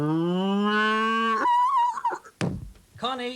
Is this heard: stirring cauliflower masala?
no